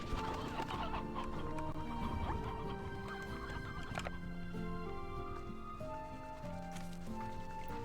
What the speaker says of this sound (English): There's so many chickens.